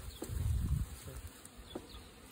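Bees buzz close by in a low, fluctuating drone, louder at first and then fainter, with no talking.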